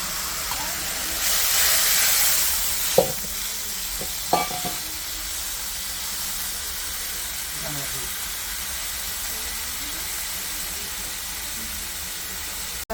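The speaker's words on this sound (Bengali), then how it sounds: "তেল ছেড়ে গেছে, এখন জল দিয়ে দেবো।" Water poured into a pan of frying fish curry masala for koi fish sets off a steady steaming hiss and sizzle, loudest early then settling, with a few clinks of stirring.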